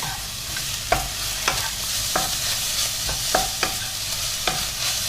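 Shiitake mushrooms and vegetables sizzle steadily in a pan, with about six sharp stirring scrapes spaced roughly a second apart over the constant frying hiss.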